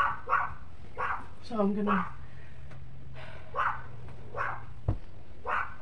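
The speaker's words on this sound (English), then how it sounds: "Sorry if my dog is still barking like a maniac." A pet dog barks in short repeated bursts through a home morning routine, some yips rising and falling, moderately close, while a person talks over and between the barks.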